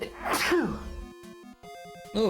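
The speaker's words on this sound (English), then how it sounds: "A little sneezy." A single sharp sneeze bursts out close to the microphone, followed by a brief exclamation and then electronic chiptune music from a Dragon Warrior III live-stream session.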